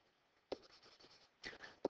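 Handwriting during a lesson on arithmetic sequences: a few quiet, short scratchy pen strokes in brief bursts, separated by near-silence.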